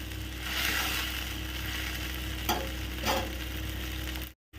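Parboiled potatoes and spices frying in a pan, a soft, low sizzle with a couple of brief scraping stirs, ending in a sudden cut to silence.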